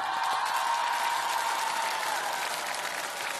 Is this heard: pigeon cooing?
no